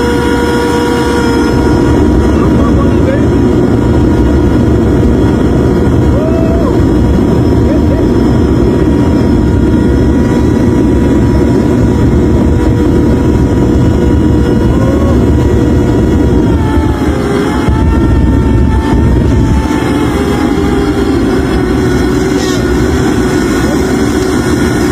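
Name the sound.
homemade aircraft engine tested at full capacity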